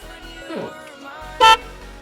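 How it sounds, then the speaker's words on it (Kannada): A single short horn honk from a Maruti Suzuki Alto LXi cuts in loudly near the end, over low background noise and a faint earlier sound. "ಹಾರ್ನ್ ಮಾಡಿ ಬ್ರೋ."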